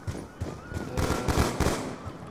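Gunfire in Black Ops 2 Gun Game, a quick burst of several shots followed by further bursts, moderately close amid game noise with a voice faintly present.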